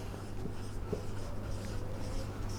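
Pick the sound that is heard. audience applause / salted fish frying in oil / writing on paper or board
writing on paper or board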